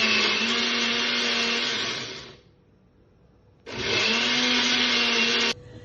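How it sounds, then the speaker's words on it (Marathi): A kitchen mixer grinder blends spinach, mint, coriander, garlic and green chillies in two loud, steady bursts of whirring, separated by a short pause, with no talking. "मी आता पालक, पुदिना, कोथिंबीर, लसूण आणि मिरच्या हे मिक्सरमधनं काढून घेते"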